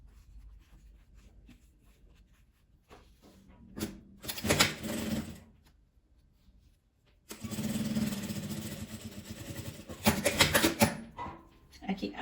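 A sewing machine topstitches a seam on fabric patchwork in two loud, steady whirring runs of rapid needle strokes, separated by quieter handling, clicks and pauses.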